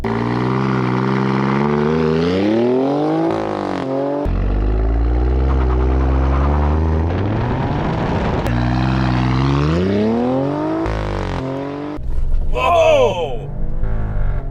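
A 2021 Alfa Romeo Stelvio Quadrifoglio SUV in race mode accelerates hard, its engine rising loud and close through several gear changes, with people talking and exclaiming over it inside the cabin.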